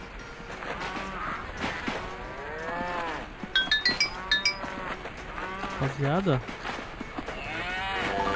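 Cows moo over and over in the Survivalcraft 2 video game on a farm with cattle and bulls, the low calls overlapping under someone talking, with bright clinking bell-like tones partway through.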